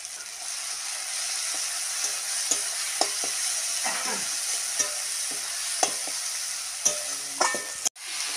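Poppy and melon seed paste frying among spices in a pan, a steady sizzle carrying through with periodic scrapes and clinks of a spatula stirring, ending in a sharp knock.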